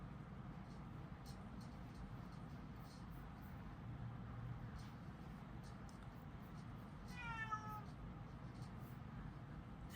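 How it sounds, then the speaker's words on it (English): A male house cat meows once in the background at night, a faint rising-and-falling whine heard over low steady room hum. "That's my boy cat in the back. He whines at night."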